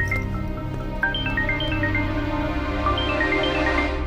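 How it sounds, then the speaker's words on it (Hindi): A phone rings with a melodic electronic ringtone, an incoming call from Aditya's teacher, steady repeating tones over a low hum, moderately loud and alone with no talking. "आदित्य की टीचर का फोन।"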